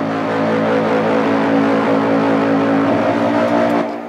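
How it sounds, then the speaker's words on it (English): Heavily distorted synth or bass layer run through iZotope Trash for a cinematic hardstyle break, a dense, gritty, continuous roar with strong mid-low body, steady for about four seconds before trailing off. "It's a really nice distortion from Isotope."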